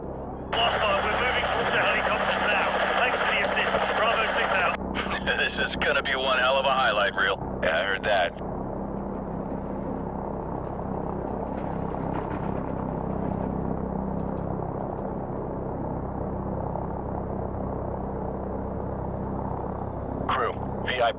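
Helicopters arrive in Call of Duty Modern Warfare Remastered, a battlefield campaign scene: a steady rotor drone and rumble runs under radio-filtered voices that talk through the first several seconds, with the engine noise continuing on its own afterward.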